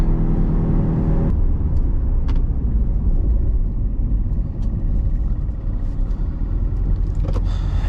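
A Chevrolet C7 Corvette Z51 cruises down a road, its engine a steady low rumble with broadband road and wind noise throughout, close and continuous with no talking.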